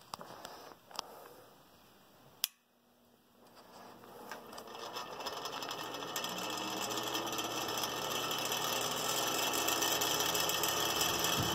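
An old, rattly Westinghouse machine runs with a steady mechanical whir and rattle that builds after a brief pause, growing louder and holding at a constant drone.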